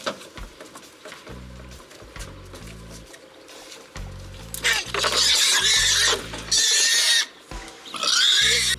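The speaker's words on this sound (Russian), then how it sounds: "Партия новоиспеченных свиночек наших" A batch of newly bought pigs squeal loudly in bursts, the shrill cries rising and cutting off over several seconds, close by, with occasional thumps and bumps in between and no talking.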